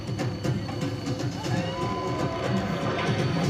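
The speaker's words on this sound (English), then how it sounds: "This tram is overloaded." Universal Studios Hollywood studio tour tram rolling along, a steady rumbling clatter with faint rhythmic clacks and a high whine, continuous and fairly close throughout.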